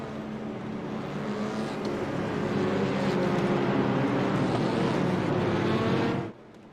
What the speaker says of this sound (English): Let's just listen to these touring car engines one more time.